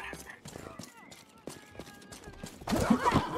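Horse hooves clip-clop in the video game Rustler, a steady trotting beat under ongoing talk that swells into a louder, busier rush of movement near the end.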